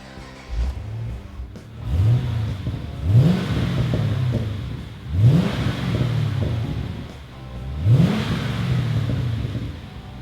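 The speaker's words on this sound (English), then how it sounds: "So how about I fire up this modern car for you so you can hear what it sounds like." A 2011 Chevrolet Camaro 2SS engine cranks to life nearby, then revs in three or four strong pulled blips, each rising sharply and falling back to a steady throaty idle between them.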